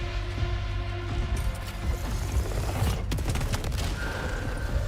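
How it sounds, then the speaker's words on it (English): Rapid-fire charge burst weapon in Saros, loading several rounds and firing them together: a steady wash of dense, crackling gunfire with a sharp cluster of shots near the three-second mark, over a sustained droning backdrop. "Loads multiple rounds into the chamber at once and fires them all in a rapid burst."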